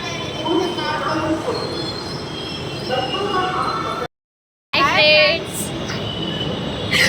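A metro train in Hyderabad rumbles along loudly with a high metallic wheel squeal, briefly cut off, then resuming with screeching and a rising whine.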